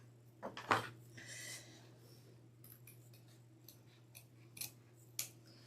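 Scissors trimming the fabric backing of a handmade gingerbread cookie wreath attachment: a few quiet snips and small rustles spaced out over a low steady hum, close and faint.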